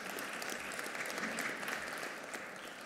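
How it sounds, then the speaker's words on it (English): An audience applauds steadily as panelists leave the stage at a BRICS business-to-business event, a dense, even wash of clapping held at a constant level throughout. "I would like you to please give them a round of applause as they step off"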